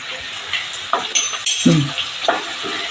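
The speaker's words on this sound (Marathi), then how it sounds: "चांगलं तूप गरम झालं त्यामध्ये आलं टाकणार" Ginger sizzling in hot ghee in a wok, with metal clinks and scraping of a spoon against the wok.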